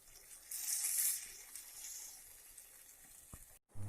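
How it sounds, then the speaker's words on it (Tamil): Tamarind water poured into a brinjal and garlic kuzhambu as it cooks, a bright splashing pour that swells early on and then settles into a softer bubbling sizzle before a brief gap. "கத்திரிக்காய் வெந்து வந்ததும் நம்ம கரைச்சி வச்சிருக்க புளி தண்ணி ஊற்றிக்கோங்க."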